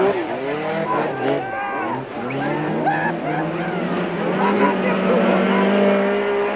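A rear-wheel-drive racing pickup in an off-road race runs on a punctured left rear tyre, its engine roaring loud and close with wavering, rising and falling pitch while a commentator talks over it.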